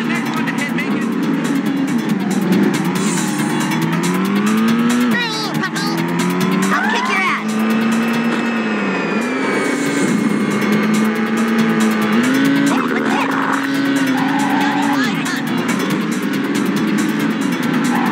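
Race cars speeding through a Disney Speedstorm video game race, continuous loud engine whine with rising and falling pitch sweeps and tire squeals, steady game music and effects throughout.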